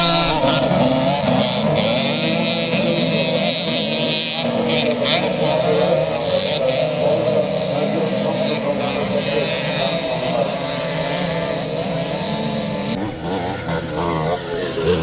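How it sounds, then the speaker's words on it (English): Classic 1970s KX 250 motocross bikes and other machines leave the line at a charity scramble in Northern Ireland, a loud, continuous roar of engines revving hard across the field, with a commentator talking over it. "as our riders leave the line, it looks like yet another good start by James Thompson"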